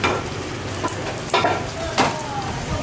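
Vietnamese pancake batter sizzles steadily in a hot pan, with a few sharp scrapes and taps of a utensil against the metal.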